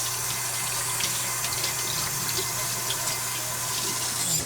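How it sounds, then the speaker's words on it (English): Tap water runs steadily into a sink while hands are rinsed of sticky banana, a continuous close hiss and splash with a low hum beneath. "let me rinse my hands off"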